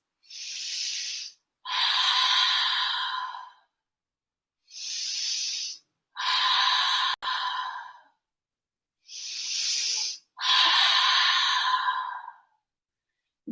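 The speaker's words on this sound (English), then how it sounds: "3 rounds of open mouth exhales" Six forceful open-mouth breaths in a yoga fish pose session, each a short inhale followed by a longer breathy exhale, heard close and alone in three even rounds with quiet gaps between.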